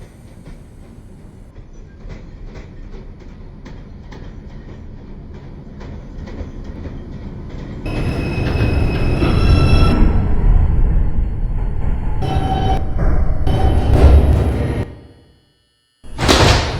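A New York IRT 2 subway train pulling into President Street station in Brooklyn, rhythmic wheel clatter building to a loud roaring rumble with squealing tones, then a brief drop and the sound of doors.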